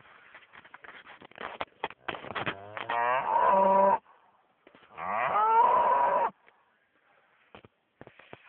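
A cow moos twice, long and loud, after some rustling and scattered knocks; quiet handling noises follow.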